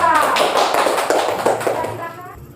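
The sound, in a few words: clapping for group 2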